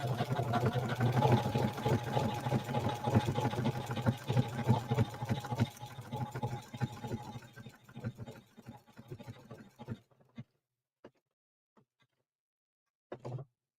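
Domestic sewing machine running a tight zigzag satin stitch over a beach-towel applique, a steady mid-pitched motor whir for about ten seconds before stopping, then a few brief clicks and a short final burst.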